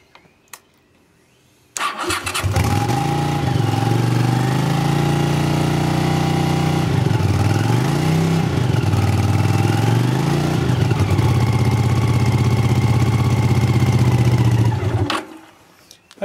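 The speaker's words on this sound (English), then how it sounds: "get the engine going" A Honda CX500 motorcycle being rebuilt as a cafe racer, with a flat battery, cranks and catches, then runs for about thirteen seconds with a loud, steady idle and a few small revs before shutting off.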